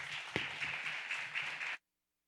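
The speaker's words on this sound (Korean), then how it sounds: "큰 박수로 환영하도록 하겠습니다" Steady applause from a church conference congregation welcoming a speaker, a sustained wash of clapping that stops abruptly, leaving silence.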